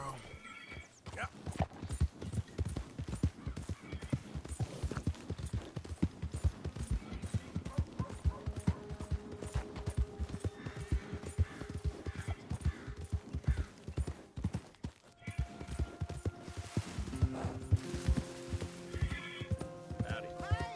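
Horse hooves clip-clop in a steady galloping rhythm in Red Dead Redemption, loud and continuous for about twenty seconds, with occasional whinnies, a voice calling out and faint music entering toward the end.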